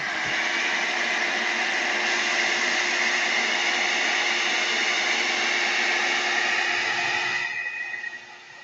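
A hair dryer blows steadily up close to dry paint on a journal page, a loud even whir that holds for several seconds and then cuts off near the end.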